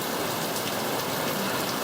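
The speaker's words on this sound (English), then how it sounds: "it is raining so hard" Heavy rain pours down in a dense, steady hiss for a couple of seconds, loud and unbroken, with no voices.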